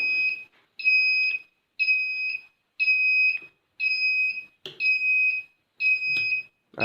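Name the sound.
active buzzer module sounding on overcurrent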